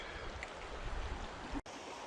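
A creek flows beneath an old abandoned canal aqueduct, giving a soft, steady babble and rush of water heard from nearby. The flow stays low and continuous, broken only by a brief dropout near the end.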